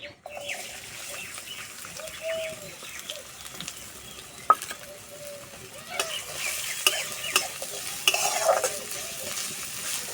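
Chopped onion frying in oil with black cumin, stirred now and then: a soft sizzle with occasional scrapes and clinks of a utensil that grow busier toward the end, heard up close with faint bird calls in the background.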